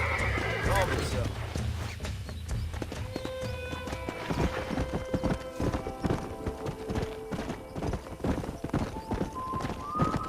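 Horses in the Red Dead Redemption video game whinny loudly and clop their hooves over a steady game soundscape, with a voice speaking over part of it.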